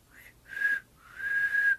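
A person whistles two notes, a short one then a longer sustained one, close and clear against a quiet background.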